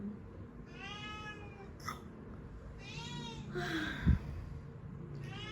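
A pet cat meows several times, clear and close, with drawn-out rising and falling calls over steady indoor background noise and a brief thump.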